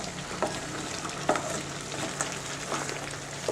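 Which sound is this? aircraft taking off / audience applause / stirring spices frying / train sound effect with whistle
stirring spices frying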